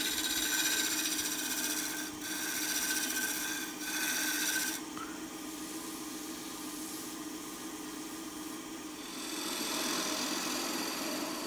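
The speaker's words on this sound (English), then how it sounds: "this shear scrape takes care of that in short order" A maple box turning on a wood lathe is shear scraped, giving a steady close rasping scrape over a spinning hum, with brief breaks in the contact before the cut carries on more quietly.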